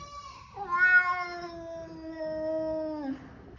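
Domestic cat giving one long, drawn-out, wavering meow that rises and then slowly trails off, close and clear against a quiet room.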